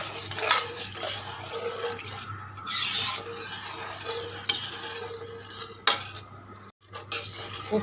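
Rice being stirred into coconut milk in a metal pot for coconut milk pulao, with repeated close scrapes and clinks of a ladle against the pot over a soft bubbling sizzle, no talking.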